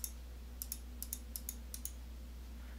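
Sharp, faint clicks of a computer mouse during Legend of Grimrock play, about a dozen isolated taps spread irregularly over a low steady hum, with no voice.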